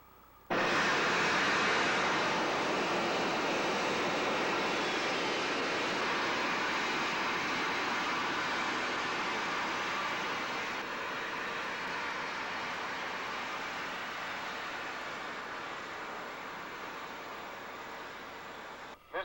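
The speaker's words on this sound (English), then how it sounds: "Third and final stage ignited." Third and final stage of a rocket to the moon firing after ignition, a loud steady broadband roar that starts abruptly and holds for nearly twenty seconds, tapering only slightly toward the end, with no voices.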